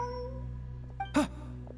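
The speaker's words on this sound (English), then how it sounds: "Look, a cat." A cat in the video game Genshin Impact gives a single short meow, heard faintly over steady background game music.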